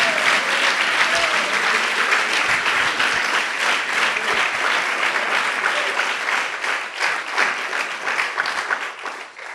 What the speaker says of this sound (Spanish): Está bajito ese aplauso